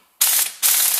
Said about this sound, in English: Now I'm going to tighten the top